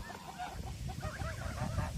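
Geese honking repeatedly at a countryside summer camp, a steady run of nasal calls close by over a continuous outdoor hum.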